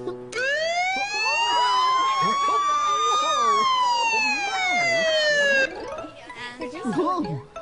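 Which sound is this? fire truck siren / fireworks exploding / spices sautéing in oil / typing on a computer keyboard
fire truck siren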